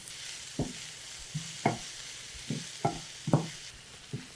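Finely chopped onion with a little salt sautéing in a pan, a soft low sizzle broken by about eight light spatula scrapes and taps at an uneven pace.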